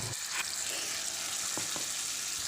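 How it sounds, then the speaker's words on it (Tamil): Puréed tomato sautéing in hot oil in a pan for a vegetable-free curry, giving a steady close sizzle and frying hiss throughout, with a couple of brief stirring scrapes and no voices. "தக்காளியவும் நல்லா வதக்கி விடுங்க"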